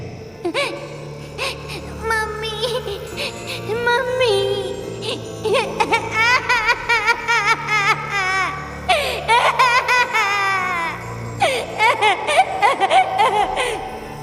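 Baby crying as a sound effect in a horror audio drama set in a church, with repeated wailing and sobbing cries rising and falling over a low sustained music drone, fairly loud and close.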